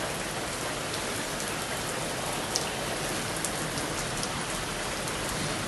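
Steady storm rain pouring down outdoors, a dense, even hiss of drops striking surfaces close by, with no voices and only faint stray taps standing out.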